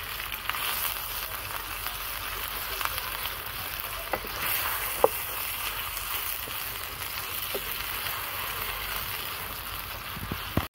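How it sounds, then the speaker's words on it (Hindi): Minced chicken fries with ginger and garlic in a pan, giving a steady, soft sizzle with a few faint clicks and stirring taps throughout. "अभी कुटे हुए चिकन को भी जो है अदरक और लहसुन के साथ थोड़ी देर के लिए फ्राई करेंगे"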